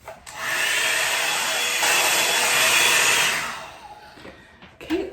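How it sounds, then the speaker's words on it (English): A hot-air blow dryer brush hums steadily while drying and styling a blonde bob, a loud continuous whoosh for about three and a half seconds, then cutting off, followed by faint handling noises. "To have a blow dryer and a brush all in one, I think that's genius"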